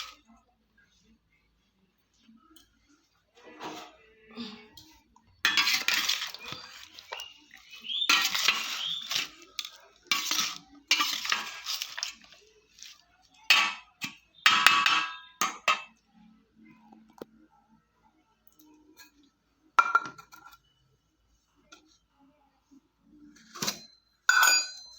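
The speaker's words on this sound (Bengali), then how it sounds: "এখন কাঁচা তেল দিয়ে দেব। দিয়ে এটাকে মেখে নেব।" Fish paturi ingredients of morola fish being mixed with raw mustard oil, heard as irregular bursts of clinking, scraping and sticky squelching from a bowl, separated by quiet pauses and growing busier partway through.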